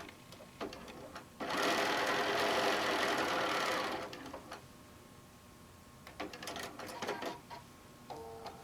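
Close by, a sewing machine runs in one steady burst of about two and a half seconds while stitching a forest-panel quilt, followed by quieter handling clicks and taps.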